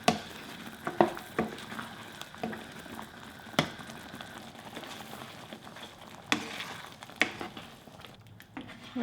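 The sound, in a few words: stirring rosé tteokbokki with cheese in simmering broth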